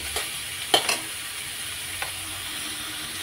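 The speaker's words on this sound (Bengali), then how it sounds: "আরও 5 মিনিট চিংড়ি মাছটা দিয়ে ভেজে নেব।" Large prawns, each cut in two, frying with vegetables in a pan for pasta, giving a steady close sizzle with a few sharp scrapes and clatters as they are stirred.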